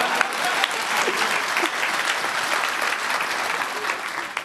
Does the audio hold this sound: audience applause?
yes